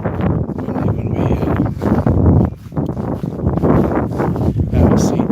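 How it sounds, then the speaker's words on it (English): Steady outdoor wind gusts across an open grassy area during a daytime walk, a loud continuous rushing and buffeting close to the microphone that swells and dips throughout. "It's a little bit windy."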